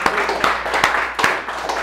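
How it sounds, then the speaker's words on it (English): An audience at a gun owners' first aid talk gives a round of applause for Rich, with several distinct sharp claps standing out over a thin, steady room murmur. "let's give Rich a big round of applause"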